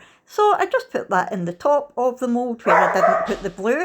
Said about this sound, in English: I do apologise for the dogs.